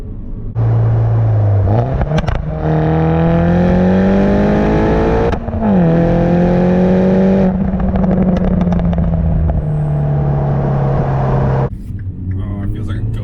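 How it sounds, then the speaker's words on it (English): A turbocharged R56 Mini Cooper S runs loud and close, its engine climbing with rising revs and turbo spool, dropping through a gear change with a blow-off valve release, then climbing again before exhaust pops crackle at the end. "Such a good mixture of the blow-off valve, the turbo spool, and then the pops in the end."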